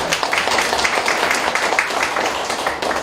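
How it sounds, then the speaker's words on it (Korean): An audience at a lecture hall talk on overcoming low birth rates claps steadily, a dense, even patter of many hands filling the room without pause. "박수 한번 주세요."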